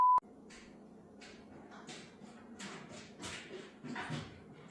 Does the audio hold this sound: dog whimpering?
yes